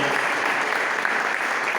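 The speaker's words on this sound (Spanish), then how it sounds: "Den un aplauso al Señor." A church congregation claps together in a dense, continuous burst of applause, loud and close, lasting under two seconds with no speech over it.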